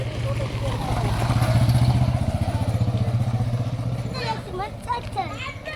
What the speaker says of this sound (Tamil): வண்டி வண்டி வருது, பார்த்து கவனம்.